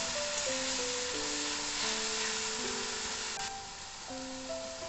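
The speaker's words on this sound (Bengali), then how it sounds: "এবার মশলাটা আমি খুব সুন্দর করে একটু কষিয়ে নেব।" Spice paste for chicken curry fries in a pan, giving a steady, moderate sizzling hiss throughout, partly masked by continuous background music.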